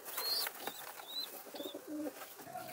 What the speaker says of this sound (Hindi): शेरा रेसर कबूतर जो रमज़ान में छोड़ा था दोस्तों उड़ने के लिए